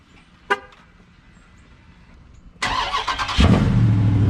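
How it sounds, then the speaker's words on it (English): A Dodge Charger Scat Pack engine cold starts after a short chirp: the starter cranks, then the engine catches with a loud, deep roar that settles into a strong, steady idle. "Good old cold start."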